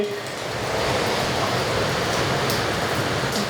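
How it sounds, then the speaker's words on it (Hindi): Heavy rain pours outside a beachfront house at Sapphire Beach, New South Wales, Australia, in a dense, steady hiss, an unbroken wash of noise with no voices. "इतनी बारिश हो रही है बाहर"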